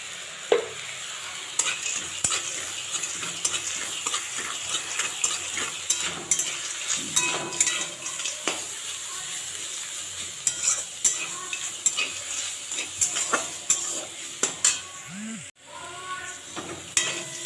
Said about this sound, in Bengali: শাক ভাজা হয়ে গেছে আমার